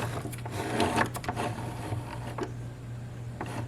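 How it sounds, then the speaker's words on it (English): A compact portable sewing machine's handwheel is turned by hand, giving soft mechanical clicks and whirring over a steady low motor-like hum, close and moderately quiet, with no talking. "Turn the wheel towards you to pull up the bobbin thread."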